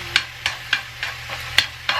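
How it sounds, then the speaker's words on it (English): Sautéed vegetables being stirred in a pan, with about seven crisp, evenly spaced scraping strokes over a low hum, close up and with no talk. "Now that everything has sauteed down."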